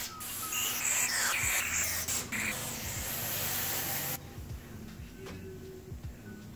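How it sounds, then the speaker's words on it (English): Brake cleaner hisses in steady bursts through a straw into engine bolt holes during an oil pump and rear main install, with the spray stopping abruptly and faint workshop clicks following. "What I'm going to do now, of course, is hit it with some brake cleaner."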